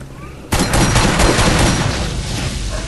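Gunfire from a shotgun in the video game Borderlands erupts suddenly and loudly, a dense burst of blasts and booms that sustains at high level for a couple of seconds.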